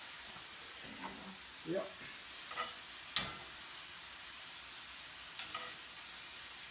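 Meat that has just been flipped in a pan sizzles quietly under a soft stirring hiss. A few sharp clicks and scrapes of a utensil come through, and someone speaks a single short word.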